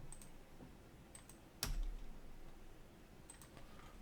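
Keyboard keys and a mouse being clicked at a computer desk while working on drawing quantity takeoffs: sparse soft taps and one sharper click burst near the middle, quiet and close against a low room hum, no talking.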